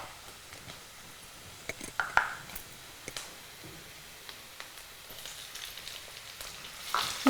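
Sour tomatoes fry in a pan, a soft, quiet sizzle with scattered ticks and crackles and occasional stirring clicks, heard close with no talking.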